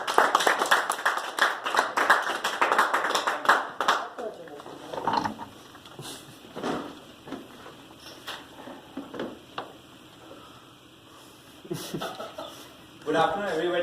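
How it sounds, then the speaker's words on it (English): Audience applause for a speaker at a Toastmasters club meeting, a burst of dense clapping that fades after about four seconds into scattered claps, murmurs and room noise, with a short renewed clap near the end. "A round of applause for Pankaj."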